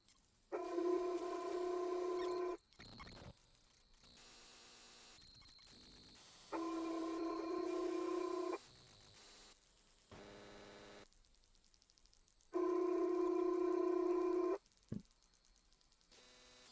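A phone line rings out while waiting for someone to pick up: three long ring bursts at steady intervals, each a couple of seconds, separated by quiet gaps with faint clicks, heard through a handset.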